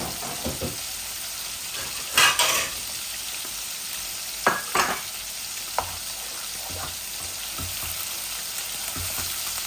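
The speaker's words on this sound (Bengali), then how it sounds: "মাছগুলা ভাজা ভাজা ওই যাক" Tilapia pieces fry in hot oil in a pan with a steady close sizzle, broken by a few louder bursts of scraping and stirring.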